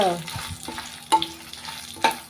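Dried chilies and lentils are roasted in a pan for curry leaf powder, giving a soft, close sizzle broken by a few sharp scraping clinks as they are stirred.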